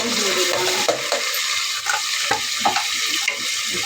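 Ghee sizzling steadily in a hot pan while being stirred, a loud continuous hiss with soft scraping strokes and small clinks, no talking.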